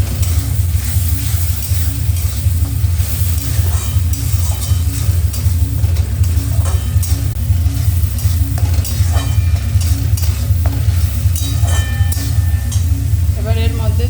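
Onion and tomato frying in a pan as ginger, garlic and green chili paste goes in, a steady hiss and crackle with occasional stirring clatter over a constant low hum.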